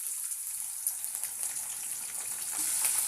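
Onions and chilies frying in hot oil, a steady close crackling sizzle with dense bubbling that swells slightly louder toward the end, no voices.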